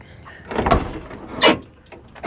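Several creaky, squeaky door movements of a 1996 Ford Taurus station wagon, two louder bursts with softer clunks and rattles between them, close by with no talking.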